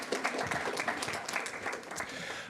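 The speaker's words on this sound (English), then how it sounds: "So if we can give them a round of applause for being here." A board meeting audience gives a round of applause, a steady wash of many hands clapping throughout at moderate, slightly distant volume with no talk over it.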